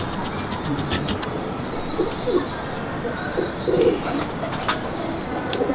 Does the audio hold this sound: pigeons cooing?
yes